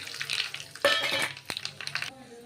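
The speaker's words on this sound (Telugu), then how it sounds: "నూనె పోసిన చూడండి. తాలింపు గింజలు వేసుకుందామండి. అదేవిధంగా ఎండుమిరపకాయలు" Mustard seeds and dried red chillies sizzle and crackle in hot oil for a pepper rasam tempering, a steady close frying hiss with sharp pops and a brief clatter of a utensil partway through.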